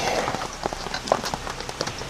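Rain falling outside a van on a wet day, a steady patter of drops with scattered sharper taps across the surfaces, fairly loud and continuous.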